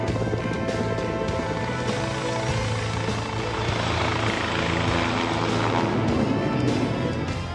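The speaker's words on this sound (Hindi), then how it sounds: "यह एयर शो दुनिया के सबसे उन्नत विमानों में से कुछ का मिश्रण था।" Military aircraft fly over the Indian Air Force Day air show at Prayagraj with a loud, continuous rotor and engine roar that swells and shifts as they pass overhead, with no talking.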